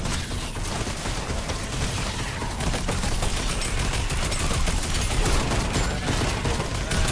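Dense, continuous gunfire from the Fortnite video game, a loud, nonstop rattle of rapid shots with no pauses or speech over it.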